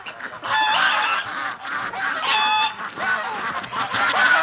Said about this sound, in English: The geese are coming